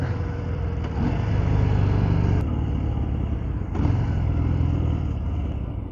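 A 2023 Harley-Davidson Fat Bob 114 motorcycle rumbles with a deep, throaty exhaust note while riding, rising briefly as the throttle opens, with a steady low engine drone and wind throughout.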